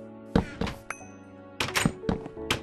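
Axe striking wood in Minecraft, a series of sharp hollow thunks in uneven bursts, a few single hits then a quicker cluster, close and clear with little else behind.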